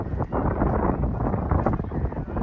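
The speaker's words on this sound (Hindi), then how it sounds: "बिल्कुल आंधी चल रही है," Strong wind blowing outdoors during a kite-flying match, a dense, steady rushing roar buffeting the microphone throughout.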